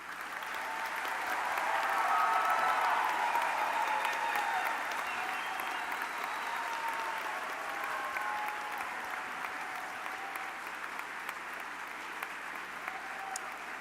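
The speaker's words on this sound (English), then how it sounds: "let's give yourselves one more big round of applause." Sustained applause from a large crowd at a college convocation, swelling early and then tapering to a steady patter of clapping.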